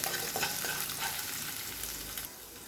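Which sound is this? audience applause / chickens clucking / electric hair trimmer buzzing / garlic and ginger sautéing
garlic and ginger sautéing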